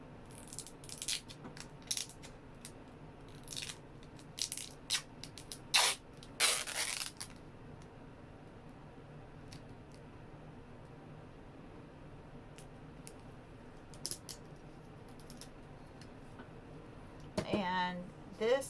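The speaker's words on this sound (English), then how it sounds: "I'm going to go ahead and tape it first." Tape being pulled and stuck onto the hinge of a homemade folding mat, sharp ripping and crinkling bursts scattered at intervals over quiet room tone, with a longer tearing strip near the end.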